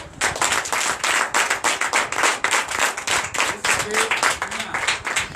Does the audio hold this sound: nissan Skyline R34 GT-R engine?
no